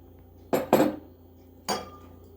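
A bowl is handled on a hard surface, giving three distinct clinks and knocks, two close together and a third a moment later, near and fairly loud with no voices.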